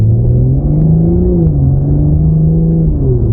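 A 2023 BMW M340i (G20 LCI) engine accelerating, heard as a loud, steady low drone with a rising pitch over about three seconds and no talk.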